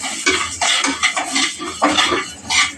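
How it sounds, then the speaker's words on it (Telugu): Moong dal dry-roasts in a pan, heard as a close, clattering run of spoon scrapes and knocks against metal in quick irregular bursts. No speech. "ముందుగా పెసరపప్పు వేయించుకుందాం"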